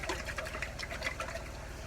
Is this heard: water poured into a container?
yes